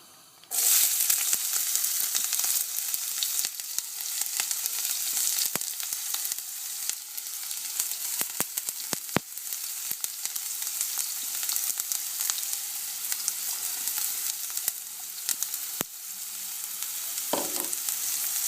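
Onions frying in oil in a pan for mushroom risotto, a loud continuous sizzle that starts abruptly and holds steady, broken by occasional crisp crackles and spatula scrapes.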